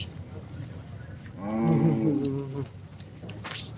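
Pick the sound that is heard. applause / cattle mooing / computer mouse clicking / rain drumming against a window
cattle mooing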